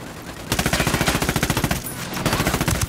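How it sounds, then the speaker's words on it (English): Rapid automatic gunfire aimed at cartel reinforcements in Ghost Recon Wildlands, with loud close bursts of evenly spaced shots, a brief pause near the middle, then another sustained burst. "Opening fire on these fuckers."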